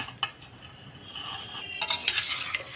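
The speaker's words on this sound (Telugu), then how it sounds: "ఇది మొత్తం రైస్కి పట్టేట్లాగా బాగా కలుపుకోండి" Cooled cooked rice is mixed into coriander paste with a spoon, producing soft close scraping and light clinks against the vessel, with no talking.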